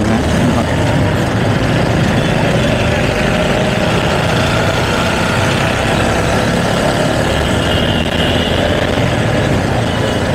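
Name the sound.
motorcycle engine running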